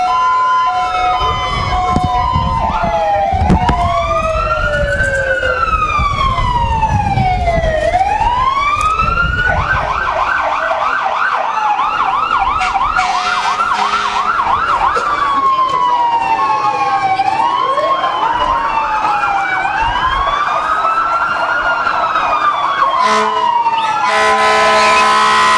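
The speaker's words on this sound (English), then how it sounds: "the police and the fire engines always come first" Police car and fire engine sirens wail and yelp at the head of a small-town summer festival parade, loud and continuous, with sweeping wails, rapid yelps and horn blasts overlapping throughout.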